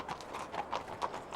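Horse hooves clip-clop in a steady, even rhythm, about six crisp strikes on hard ground, close and clear with no talk.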